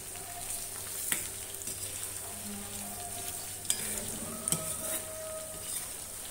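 Chicken fried rice is stirred in a pan and sizzles steadily, close by, with occasional scrapes and clinks of the utensil against the metal and no talking.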